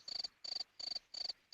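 Crickets sound effect from Google Effects: four evenly spaced chirping trills, each a rapid pulsed buzz, quiet and clean with no other sound.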